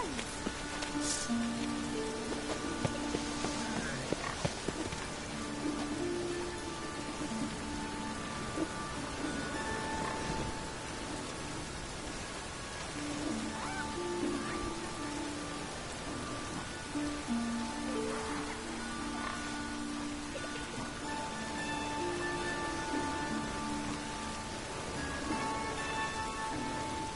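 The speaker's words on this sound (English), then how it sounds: "It just rains and rains." Steady rain falls without a break in The Witcher 3 video game, a soft, even hiss with scattered drops, under a faint tonal background that hums on and off throughout.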